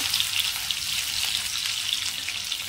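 Crushed ginger and garlic sizzle steadily in hot oil with cumin seeds as they are sautéed, a continuous bright crackling hiss at even loudness with no talk.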